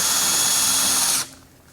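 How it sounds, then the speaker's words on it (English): A cordless drill fitted with a 3/4 socket whirs steadily at high speed while loosening vise jaws, then cuts off abruptly near the end, leaving quiet room tone. "Use a cordless drill with a 3/4 socket."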